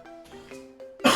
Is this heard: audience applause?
no